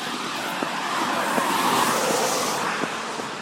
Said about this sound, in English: This is the only noisy bit for traffic.